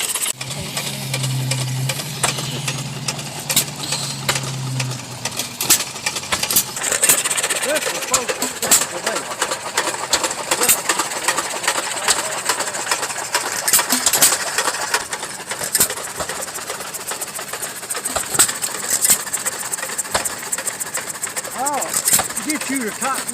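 An old stationary engine runs at a Greene County, Tennessee tractor show, its uneven firing beats ticking along steadily beneath nearby talk and outdoor crowd noise.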